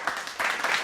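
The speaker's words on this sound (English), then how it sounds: "Let's give him a round of applause" A studio audience breaks into applause, a dense wash of clapping that swells and holds steady through the brief moment.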